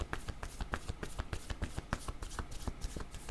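Tarot cards being shuffled by hand for a reading, a rapid run of crisp close riffling flicks and slaps at steady pace, quiet and without talk.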